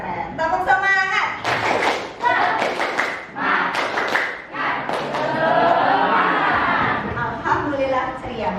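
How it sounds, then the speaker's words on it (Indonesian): A class of children claps and chants together in rhythm in a classroom, bursts of claps alternating with group voices, loud and close. "Tepuk semangat."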